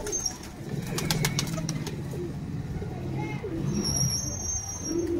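Pigeons being held in the hand give low, throaty coos that repeat through the whole stretch, close by, with people talking over them and some background noise.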